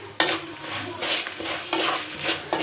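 A spiced snack mixture of poha with turmeric, chili powder, salt and jaggery is stirred in a pan, giving close scraping and rustling strokes in a few uneven surges.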